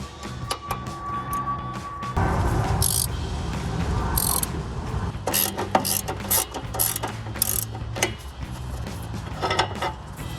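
A wrench works loose a sway bar end link bolt on a 2015-2025 Ford Mustang, with rapid close ratchet clicks in repeated bursts broken by short pauses and some clanking of metal.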